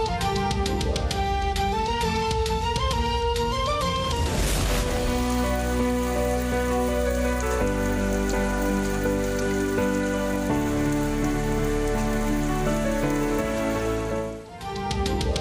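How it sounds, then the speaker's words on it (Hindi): Monsoon rain falls steadily across Karachi, a dense constant hiss over a continuous tonal music bed, loud and unbroken before fading briefly near the end. "कराची में मानसून का पहला स्पेल, कहीं हल्की कहीं तेज बारिश"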